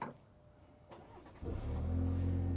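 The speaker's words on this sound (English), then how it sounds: "let's go ahead and we will remote start it" A 2023 GMC Canyon Denali truck starts remotely, with a short quiet lead-in and then the engine catching at about one and a half seconds and settling into a steady, moderate idle hum.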